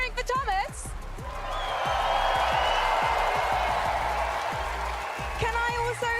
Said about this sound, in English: Copenhagen, are you cheering for Thomas